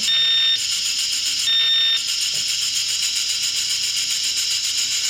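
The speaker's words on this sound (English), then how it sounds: "Now we'll make the whistle. Not a real convincing steam whistle" An electronic toy steam whistle from a sound kit gives a loud, continuous tone with a bright, reedy buzz, sounding in two short bursts over a steady rattling chuff.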